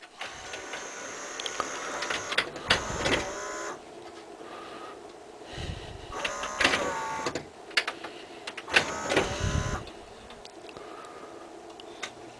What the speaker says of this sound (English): And then the disc is spinning.